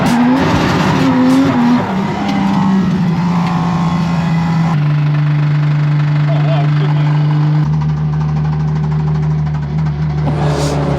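A race car slides sideways around Castle Combe Circuit, its engine roaring loud and near with tire squeal and shifting revs, a car that would go on to lose its engine.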